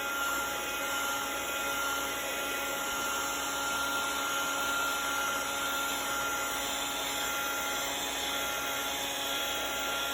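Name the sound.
heat tool blowing hot air on textured background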